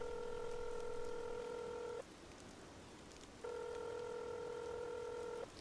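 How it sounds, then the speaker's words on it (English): A mobile phone being dialed: two bursts of steady dual-tone beeping, each about two seconds long, separated by a short pause, over faint background noise with no speech. "Tom pulled his phone out from his pocket and rang Mark."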